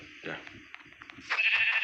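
A sheep bleats in the video game Minecraft, several short wavering cries with a quiet gap between them, and someone talks over part of it.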